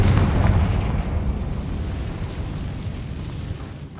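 Bombarda and Confringo spell explosions in Hogwarts Legacy: a heavy, rumbling blast that swells at once and then slowly fades into a long low roar.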